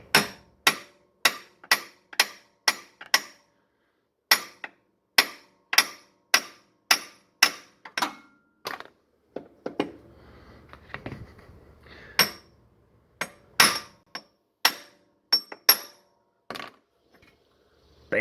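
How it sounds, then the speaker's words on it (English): A hammer taps the back of a driveshaft flange to free it from the transfer case output shaft on a Jeep Wrangler JK Unlimited Rubicon, with sharp metallic strikes in quick rhythmic bursts, brief pauses, then more spaced blows, close and alone. "you have to tap on the back of this flange to get it to separate from the output shaft on the transfer case"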